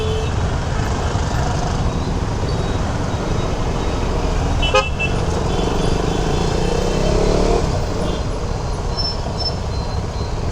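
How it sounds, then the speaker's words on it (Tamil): Dense Chennai city traffic, a steady roar of engines with a short horn toot near the middle, heard up close with no talking. "செம்ம டிராஃபிக், செம்ம டிராஃபிக்,"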